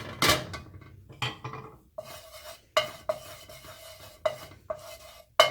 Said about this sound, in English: lagay lang ulit kayo ng konting oil for the sauteing of the garlic and onions